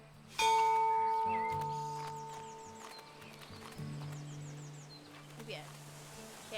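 Clip-clopping hooves of a horse-drawn bus in a cozy gardening video game, faint rhythmic steps after a bright chime, with sustained musical tones ringing over them.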